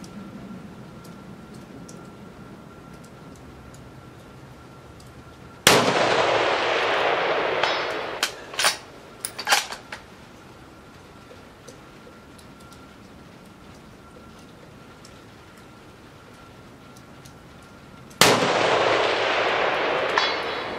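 Two sharp, loud rifle gunshots are fired from a shooting bag, well spaced apart, each a sudden blast with a decaying echo, with some faint clatter between them.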